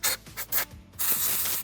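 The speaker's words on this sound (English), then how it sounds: "if you have like a duster, you can kind of just spray some air into those" A can of compressed-air duster blasts into the cracks of a leather steering wheel in hissing bursts, three quick short sprays and then one longer sustained spray, close up with no voices.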